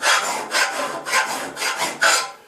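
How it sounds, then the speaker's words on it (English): A hand file rasps along the edge of a workpiece braced on a small step stool, giving five even back-and-forth strokes with short pauses between them, close and clear with no voice. "So that's the edge we're filing, and I'm using a solid surface like this little step stool."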